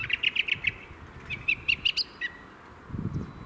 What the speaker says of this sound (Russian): Сидит у нас на яблоне и поет.